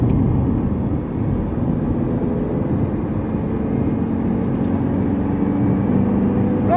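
A Volkswagen Jetta drives along with a low, steady rumble of engine and road noise from inside the cabin, continuous and fairly loud, with no clear talk.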